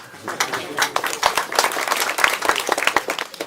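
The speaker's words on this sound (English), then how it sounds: "Can I get a round of applause for him?" Audience applause for a questioner at a talk, with sharp individual claps over a dense, steady patter from a moderately close crowd.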